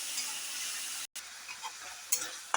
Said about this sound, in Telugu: ఈ మష్రూమ్ వేపుతుండాలి.